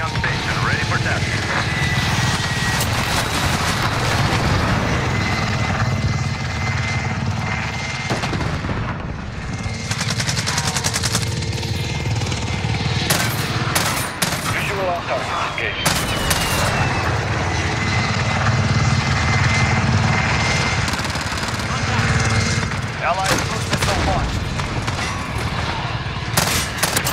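A video-game combat helicopter flies close air support, its rotor and engine roaring steadily throughout. Bursts of gunfire break in repeatedly, and voices come through now and then.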